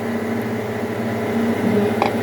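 A microwave oven hums steadily while softening pistachio paste in a one-litre microwave bowl, a loud, even drone with a faint beep near the end and no speech.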